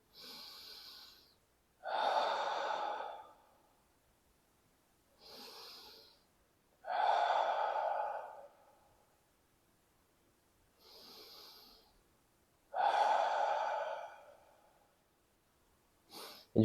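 Slow, steady breathing during a lateral jaw-glide exercise: three cycles of a soft inhale followed by a longer, louder exhale, close and alone with quiet pauses between.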